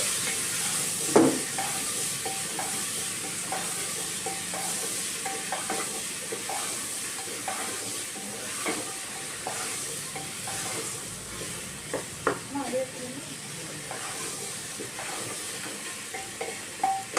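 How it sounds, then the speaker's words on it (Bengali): Masala with chopped tomatoes frying in oil in a pan, a constant soft sizzle and hiss broken by scraping stirs of a spoon, close and fairly quiet, with no talk. "দিয়ে এবার মশলাটা আমি ভালোভাবে কষিয়ে নেবো যতক্ষণ না তেল ছাড়ে।"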